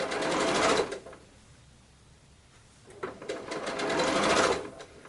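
Sewing machine stitching fabric for a Christmas improv quilt block, with two loud bursts of running stitches at the start and end and a quieter pause between them while the fabric is adjusted.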